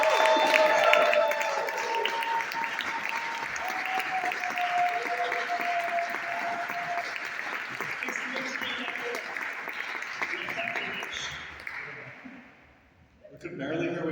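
Loud, continuous applause and clapping from a crowd at a Democratic Socialists rally, holding steady for about twelve seconds before fading out, with some voices mixed in near the end.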